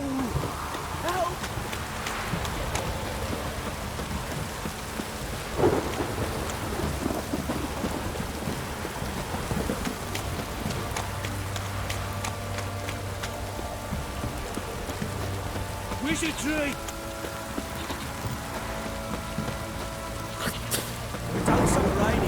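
Steady rain hisses throughout in The Witcher 3: Wild Hunt, with rumbles of thunder rolling in at intervals, while someone talks and shouts over the storm.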